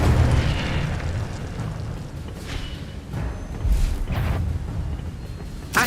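A fiery Incendio spell blast in the Hogwarts Legacy video game, a deep rumbling burst with thuds and whooshing flares repeating over several seconds amid busy combat noise.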